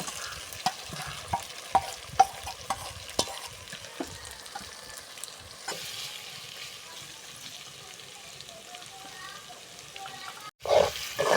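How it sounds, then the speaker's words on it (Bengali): Fried chicken pieces tipped into a pan with tomato sauce for pasta, a series of distinct spoon knocks and scraping stirs over a low, quiet sizzle, then a louder clatter right at the end. "এবার দিয়ে দিচ্ছি ভেজে রাখা মাংস।"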